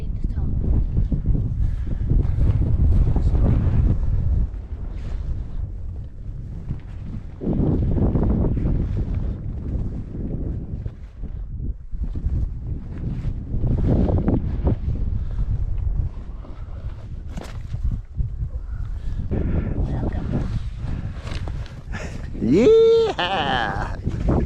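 Gusty wind buffeting a microphone on a Welsh mountain top, loud rumbling bursts rising and falling, with voices talking intermittently beneath and between the gusts.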